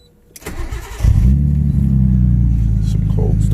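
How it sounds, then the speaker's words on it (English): A car engine cold-starts after a brief crank, catching and settling into a loud, steady, close idle that holds to the end of the clip. "Some cold start action."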